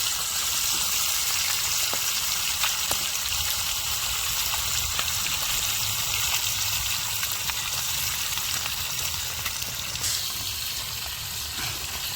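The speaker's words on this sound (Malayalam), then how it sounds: "അടുത്തായി നമ്മൾ മീനൊന്ന് ഫ്രൈ ചെയ്ത് കൊടുക്കാൻ പോവുകയാണ്" Fish frying in oil in a pan, a loud, close, continuous hiss and crackle of sizzling with small pops and the occasional light scrape, steady throughout.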